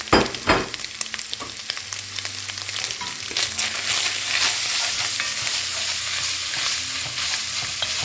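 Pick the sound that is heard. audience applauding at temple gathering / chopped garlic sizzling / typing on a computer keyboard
chopped garlic sizzling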